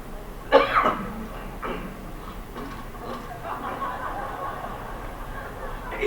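A single sharp cough, with a follow-up cough or throat-clear, breaks out near the start from a person in a gathering. Quieter murmuring and background room noise follow.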